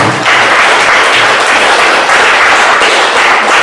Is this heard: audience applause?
yes